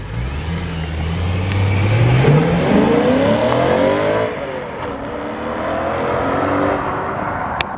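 A loud BMW E92 M3 V8 revs hard through a new exhaust, pitch sweeping upward as it accelerates, then eases off into a lower steady drone near the end.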